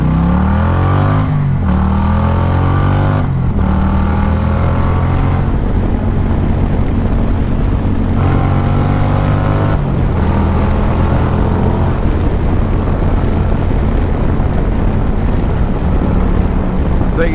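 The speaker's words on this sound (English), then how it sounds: "So give it a little run through the gears." An Indian Challenger Powerplus motorcycle fitted with Lloydz Garage 530 cams accelerates hard through the gears, its loud engine climbing in pitch, dropping briefly at each shift, then building again in a steady, close roar.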